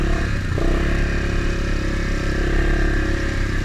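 A dirt bike ridden through a flooded, rutted grassy trail, its engine droning loud and steady up close with a brief shift in pitch early on and no talking.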